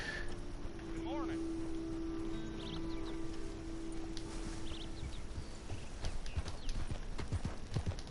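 Horse hooves clip-clopping at a steady rhythmic trot in the Red Dead Redemption video game, moderately close, mixed with a low engine-like drone and faint game ambience.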